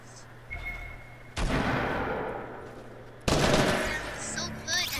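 Bursts of automatic gunfire in Fortnite, two loud sustained volleys with a short pause between them, mixed with faint game sounds.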